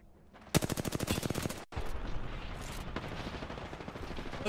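Rapid automatic gunfire from Apex Legends, a loud burst of evenly spaced shots followed after a brief gap by a dense stretch of distant firing and rumbling combat noise.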